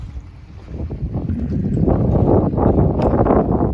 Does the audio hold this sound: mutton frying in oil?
no